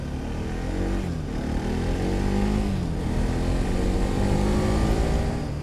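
A Bajaj Pulsar NS200 motorcycle rides at low speed toward a parking spot, its engine droning steadily with small rises and dips in pitch, loud and close with wind rumble throughout and no talk.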